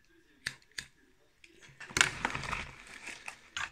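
A parcel of parts for a milling machine is opened by hand: a few sharp clicks, then a burst of close crinkling and rustling packaging with small snaps and taps toward the end.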